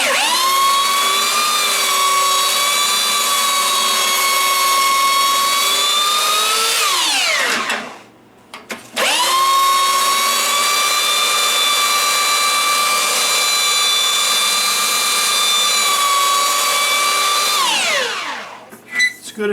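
A belt sander grinds a pinball lock down bar part, loud and continuous with a steady high whine, spinning down around seven seconds, briefly stopping, then running again for about ten seconds before winding down.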